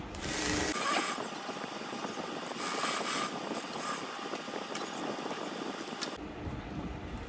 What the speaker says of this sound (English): Stitch the lining too, upward.